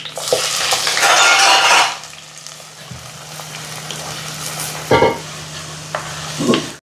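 Fennel seeds, green chilies and curry leaves sizzle loudly in hot oil for a prawn curry, a burst of hissing and stirring at the start that fades to a low background hiss with a few clanks of a utensil against the pan.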